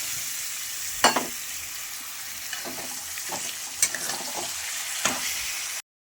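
Mutton pieces frying with salt, chilli powder and sour yogurt in a pan for mutton curry, a steady close sizzle broken by a few sharp scraping stirs.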